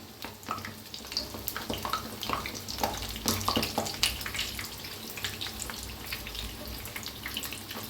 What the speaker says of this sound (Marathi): आता एका साईडने छान असं तळलेले आहे. फिरवून घेऊया.